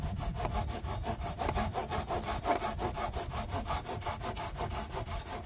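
Wood is cut with a hand saw in quick, regular back-and-forth strokes, each one a rasping scrape, close to the microphone and continuing steadily with no voices.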